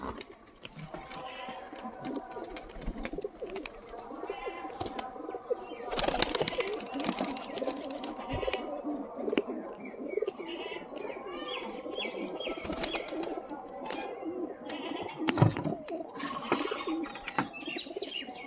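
Several domestic country pigeons coo in repeated low, throaty rolls, with overlapping calls from nearby birds and occasional faint wing flutters.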